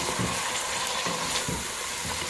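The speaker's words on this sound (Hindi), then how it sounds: "अच्छी तरह से मिक्स करेंगे" Whole spices, cloves and black peppercorns, are stirred in a hot cooking pot for green peas pulao, with loud continuous sizzling and rhythmic scraping strokes of the spoon close by.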